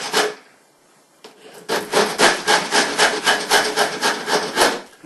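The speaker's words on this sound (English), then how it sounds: "All we're going to do then, with a file, we're going to shave that triangle down." A hand file shaves a metal triangle down to a point in a vise, producing steady rhythmic rasping strokes, about a dozen even back-and-forth scrapes after a short pause, close and fairly loud.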